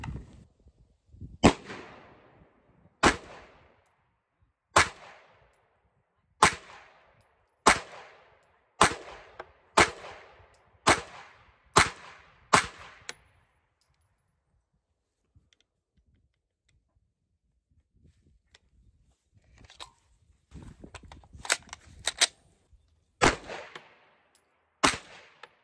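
Glock pistol, the cheapest build, firing CCI ammunition: sharp, loud single shots fired at an uneven, unhurried pace, roughly a dozen in all, then a quiet pause with faint handling noise before a few more reports.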